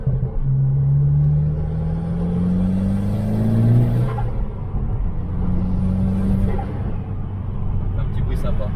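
A 2010 Seat Leon Cupra R with a stage 2 tune drones from inside the cabin while driving, its engine note climbing steadily, dropping at a shift, then settling into a lower, even pull.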